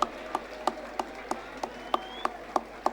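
At a college freshers' day welcome, hands clap in a steady, evenly spaced rhythm, about three sharp claps per second, fairly close and distinct against a quiet hall.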